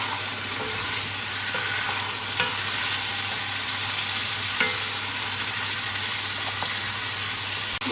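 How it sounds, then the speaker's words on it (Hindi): Chicken pieces sizzle and fry in oil with garlic and ginger, a steady close crackling hiss with occasional scraping stirs, with no one talking. "अब इसे सिर्फ लहसुन अदरक में ही हमने भूनना है।"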